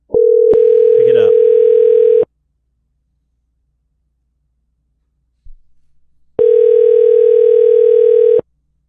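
Outgoing phone call ringback tone: two long steady electronic ring bursts separated by several seconds of silence, loud and close, with no voices over them.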